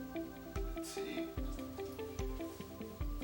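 Water poured onto paper treated with a protective nanomaterial coating, giving soft dripping and splashing taps at a slow, uneven rhythm, quiet and close.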